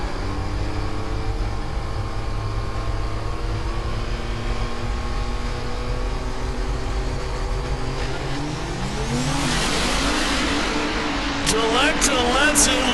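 Diesel Pro Street drag racer on an eighth-mile pass at Wild Horse Pass Motorsports Park, engine roaring and climbing in pitch as it accelerates away, under a track announcer's commentary with crowd noise.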